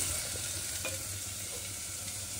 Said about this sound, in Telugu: ఆ బౌల్లోకి మనం ఫస్ట్ కట్ చేసాం కదా 4 ఆనియన్స్, అవి వేయాలి.